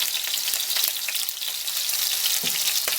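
Squirrel meat sizzles steadily in a thin layer of sunflower oil with garlic salt, a loud, continuous frying hiss with occasional soft pops and stirring scrapes close by.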